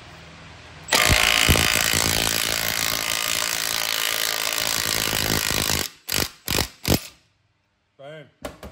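A hand-tightened press forces a bushing into an FG Falcon XR6's suspension, making a loud continuous ratcheting and grinding for several seconds, followed by a few heavy separate clunks and a short squeak close by.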